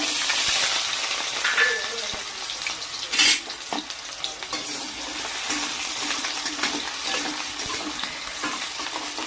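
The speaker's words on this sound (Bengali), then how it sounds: "তেল গরম হয়ে গেছে, এতে আলু দিয়ে দেবো।" Potatoes sizzle and crackle in hot oil in a kadai wok while ghugni is being made, a steady, close frying hiss with occasional sharper spits and stirring scrapes.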